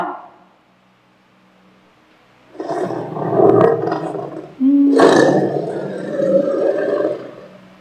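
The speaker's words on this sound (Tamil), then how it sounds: "புலியுடைய சத்தத்தை கேட்கலாங்களா?" A tiger roars twice, deep and loud at close range, each a rough sustained rumble lasting a couple of seconds, with a short quiet gap before the first and a brief break between them.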